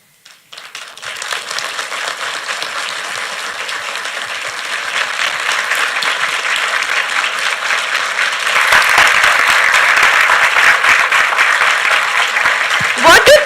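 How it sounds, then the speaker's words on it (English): A live audience applauds as a guest enters: the clapping swells from silence into steady, loud applause, grows stronger toward the end, and has some cheering mixed in. "Guys, a round of applause when he enters."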